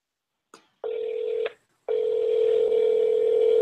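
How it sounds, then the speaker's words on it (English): A phone line clicks, then a steady ringback tone sounds twice, one short burst and a longer one, clear and close. "It's ringing."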